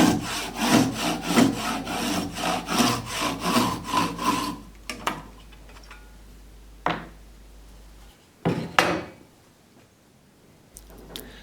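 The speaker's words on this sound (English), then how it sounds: "as long as you take your time and let the saw do the work" A hand saw cuts a wooden dowel with about a dozen rhythmic, rasping back-and-forth strokes, loud and close, then stops, followed by a few scattered knocks and a final couple of short strokes.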